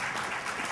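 Brief applause breaks out at a Senate forum on hydrofracking, a short, even burst of clapping from a seated audience.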